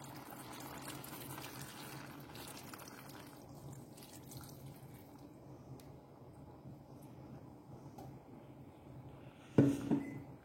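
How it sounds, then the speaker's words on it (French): Water is poured into a pot of cabbage soup, making a continuous gentle splashing fill that thins out midway, followed by a short louder clatter near the end. "Et maintenant, je vais ajouter l'eau pour recouvrir."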